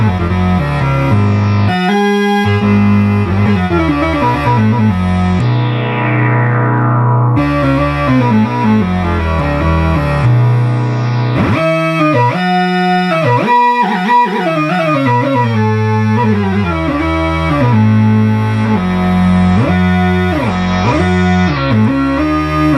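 A restored R.A. Moog Minimoog synthesizer played alone, its loud, buzzy tones sliding and shifting through sustained notes and quick runs, with sweeping filter changes and pitch glides throughout.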